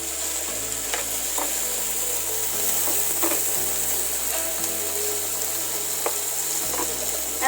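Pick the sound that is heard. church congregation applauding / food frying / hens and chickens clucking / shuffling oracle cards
food frying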